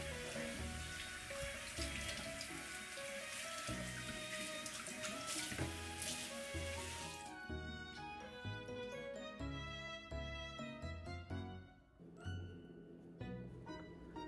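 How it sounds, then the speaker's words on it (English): Tap water runs steadily over a red snapper in a sink, rinsing off leftover scales, a continuous broadband splash with brief shifts as the fish is moved under the stream. "And rinse off the rest."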